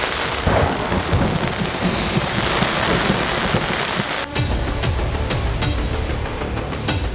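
Heavy rain pours down steadily in Karachi with rolling thunder, loud and continuous, with sharper crackles of water toward the end and no voices.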